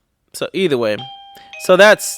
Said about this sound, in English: Sorry, that was our doorbell.